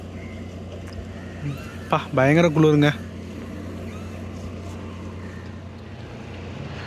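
Night bus travelling uphill from Coonoor toward Ooty, its engine giving a steady low drone and road rumble throughout, with a brief burst of nearby speech over it partway through.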